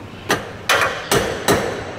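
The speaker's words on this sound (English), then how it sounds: "Maybe a hammer." A hammer knocks a stuck nut loose during a Chevrolet Tahoe rebuild, four sharp metallic strikes spaced roughly evenly, each ringing briefly, with no talking.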